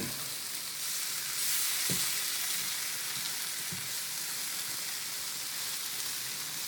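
A garlic dish for an Eastern North Carolina Cajun-style recipe being stirred and fried in a pan, giving a loud, steady sizzle and hiss with a few soft clunks from the spoon, close and constant, with no talking.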